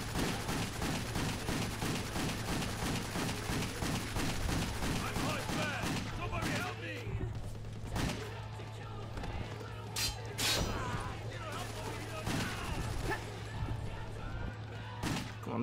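Gunfire rattles from the action game WET in a rapid, evenly spaced burst, then gives way to scattered single shots and thuds under a steady background hum.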